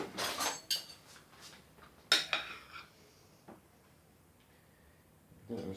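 A spoon pushing frosting around inside a container, giving a few quiet scrapes and clinks near the start and middle, then a long near-silent stretch and one last scrape.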